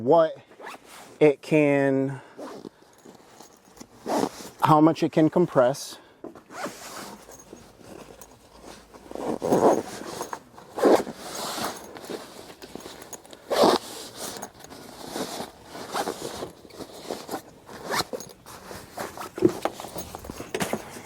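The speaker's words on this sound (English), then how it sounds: "I will zip this up right now to show you" A travel backpack packed for a year of travel is zipped shut with several quick, scratchy zipper strokes, close and fairly loud, while a person talks over and around them.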